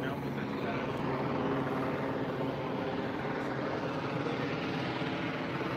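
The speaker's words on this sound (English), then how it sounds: "Their helicopter's different than any hospital helicopter." An LAPD police helicopter drones steadily overhead, a constant rumbling rotor chop with a broad engine roar, moderately loud and continuous.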